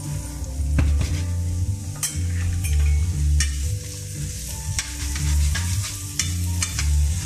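Chickpeas and bacon sautéing in a pan, loud continuous sizzling and frying with repeated scraping and clinking of a utensil stirring against the pan, close up and with no talking.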